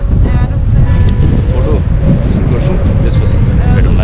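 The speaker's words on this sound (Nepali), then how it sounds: "वरपर सब क्लिफै क्लिफ छ बवाल पार क्लिफ हावा वाइल्ड चलिरहेछ" Wild wind blows among the cliffs beside the Kali Gandaki river near Chhusang, buffeting the microphone in a loud, continuous roar that lasts throughout.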